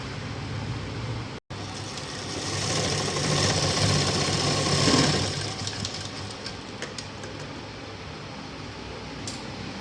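A sewing machine stitches a blouse, its motor producing a continuous close whirring hum that swells slightly in the middle, with one brief cut near the start and no speech.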